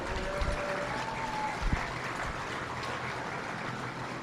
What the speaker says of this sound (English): let's go ahead and give all these exhibitors a round of applause